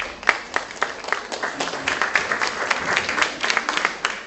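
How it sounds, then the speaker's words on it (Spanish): A seminar audience breaks into a burst of applause for three presenters being invited up, dense overlapping claps at steady loudness for several seconds with no voices over it. "Un fuerte aplauso para ellos"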